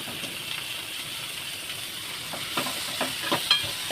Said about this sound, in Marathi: तेलामध्ये परतून घ्यायचं आहे चांगलं भाजून घ्यायचं आहे